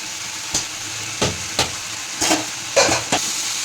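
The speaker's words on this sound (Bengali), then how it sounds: "এখন গ্যাস বাড়িয়ে এখন সমস্ত চিড়েগুলো দিয়ে দেবো" Flattened rice (chire) tossed into a hot pan over a raised gas flame, giving a steady close sizzle broken by about six sharp scraping stir strokes at irregular intervals, with no voices.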